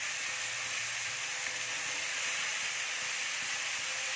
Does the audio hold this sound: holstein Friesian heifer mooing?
no